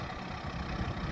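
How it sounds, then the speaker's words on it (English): A Kubota tractor's engine runs with a steady, dense low rumble, close and continuous, with no voices over it. "Praise God for the tractor. Thank you. We need this good old Kubota."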